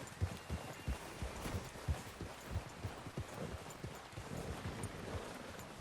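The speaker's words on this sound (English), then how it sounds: "Get a hold of that horse, Arthur." Horse hooves clip-clop steadily over ground in the Red Dead Redemption 2 video game, a regular rhythm of close, distinct hoofbeats continuing throughout at moderate volume.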